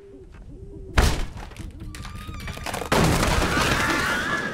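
Eerie hooting bird calls in the dark woods of the Alan Wake video game, a few short rising-falling cries nearby, cut through by sudden heavy thumps and a dense rumbling wash of game ambience.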